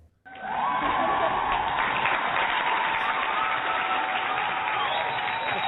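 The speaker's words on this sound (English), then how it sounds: "put your hands together for a round of applause" A live audience claps in steady, dense applause that starts abruptly and carries on evenly for several seconds with no talk over it.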